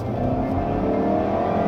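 Turbocharged engine of a 2016 midsize sedan revving steadily under acceleration, a loud continuous droning hum heard from inside, no talk.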